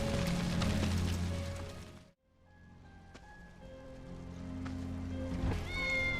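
Faint meows from a cat in Final Fantasy VII Remake over a soft rainy ambient background, with a brief drop to near silence partway through.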